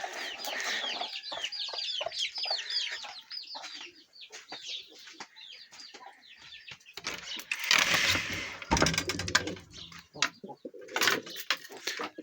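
Chickens cluck close by, mixed with busy chirping and cooing from other birds, with a few sharp knocks and rustles partway through.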